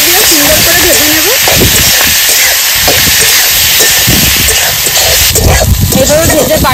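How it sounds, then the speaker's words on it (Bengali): Khārkol leaves, with salt and turmeric, frying in a pan, giving a loud, steady steamy hiss with a voice talking over it throughout. "কেটে রাখা খারকোল, লবণ, হলুদ গুঁড়ো, সুন্দর করে ভেজে নেব।"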